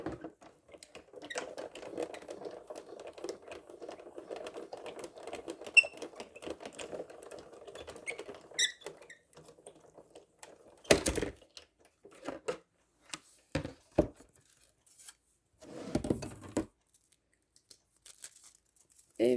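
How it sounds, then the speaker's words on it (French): Scissors snip out a small paper flower in a scrapbooking session, a steady soft rustle of paper at first, then a series of separate crisp cuts and crinkles near the mic. "Et je vais venir découper ma petite fleur."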